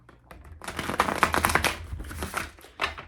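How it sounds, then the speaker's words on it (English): Tarot cards are shuffled close up, giving soft, papery riffles and flicks in short uneven bursts that stay fairly quiet, with no talk. "Let me just shuffle this up real quick."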